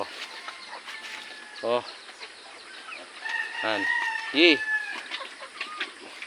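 Native chickens, a hen with her chicks feeding, cluck nearby in a few short bursts over a steady outdoor background of insect buzz.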